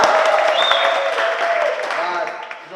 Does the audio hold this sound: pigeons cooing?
no